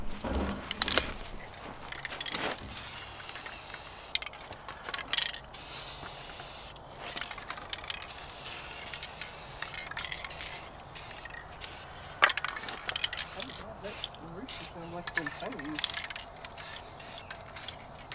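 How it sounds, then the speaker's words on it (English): Bursts of aerosol spray hiss on and off, with rattles, clicks and scraping handling noises between them, close by. "now that we got them spray painted"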